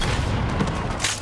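An explosion in the shooter game Borderlands 3, heavy rumbling booms rolling in quick succession with a brighter burst near the end, loud and close, with no talk over it.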